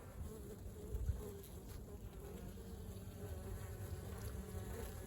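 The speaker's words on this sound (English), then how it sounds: "Get away from me, bee." Honeybees swarm around an open hive during a walk-away split, their steady, even buzz droning throughout at low volume with no talk.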